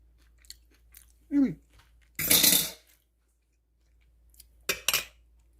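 Close, quiet chewing of a lasagna-style chicken-and-potato roll-up, in a few separate crunchy bites with faint utensil clinks between near-silent pauses.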